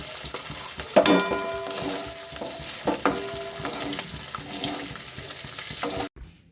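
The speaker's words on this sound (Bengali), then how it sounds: "মাছটা ভালো করে ভেজে নেব।" Dried fish sizzles and spits in hot oil, a steady frying hiss broken by a few sharper crackles and stirring knocks, close and continuous until it cuts off abruptly near the end.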